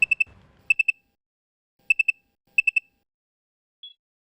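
A phone rings with an electronic tone: bursts of three quick, bright beeps repeat at intervals, loud and clear in a quiet room.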